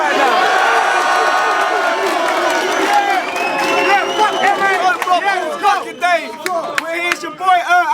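A packed Don't Flop rap battle crowd in Leeds roars and cheers, loud and sustained at first, then breaking into bursts of whoops and shouts that rise and fall.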